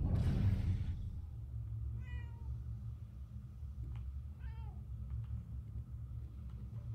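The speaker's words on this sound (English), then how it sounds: "Where did the cat go?" A cat meows twice in the video game Murdered: Soul Suspect, both short, clear calls over a low, steady background rumble, after a brief loud burst at the start.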